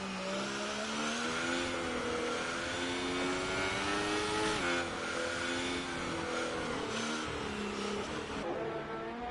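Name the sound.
race car engine slowing down in a racing video game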